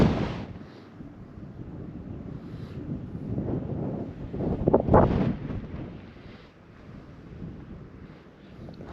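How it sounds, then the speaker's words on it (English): Gusty wind on a mountain near High Stile and High Crag buffets the microphone with low rumbling roars, swelling to a stronger blast midway before easing; no voices. "it's got a bit windy."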